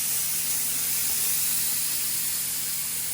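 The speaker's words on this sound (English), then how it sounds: "look at that sizzle" Raw hamburger patty for a keto BBQ bacon burger hitting a hot grill, giving a steady, loud broadband sizzle and hiss that holds evenly throughout with no talking.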